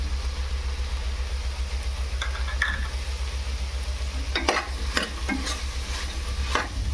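Chilli powder, garam masala and turmeric frying in a pan for vegetable palau, with a spoon scraping and stirring in short bursts over a steady low hum and faint background sizzle.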